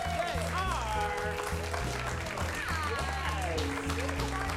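Live studio audience applause and cheering greet two guests at a late-night comedy talk show, a steady wash of clapping under loud band music and voices throughout.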